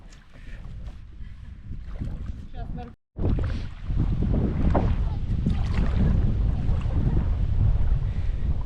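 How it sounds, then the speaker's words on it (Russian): Strong wind buffets the microphone beside the Pra river in September, a loud, steady low roar with a brief dropout near the three-second mark, as people talk faintly under it. "Ветродуй на пре."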